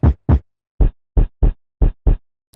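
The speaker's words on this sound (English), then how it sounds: "So I got my kick," Seven punchy kick drum hits triggered in music production software, deep and loud, arriving in a loose irregular pattern with short silent gaps between them.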